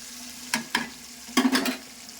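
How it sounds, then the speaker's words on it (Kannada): Several short bursts of sizzling and stirring as spices and chilies temper in hot oil for brinjal curry, close by, with brief crackles against a quiet background. "ಈಗ ನಮ್ಮ ಒಗ್ಗರಣೆ ಫ್ರೈ ಆಗಿದೆ"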